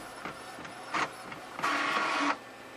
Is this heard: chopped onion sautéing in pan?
no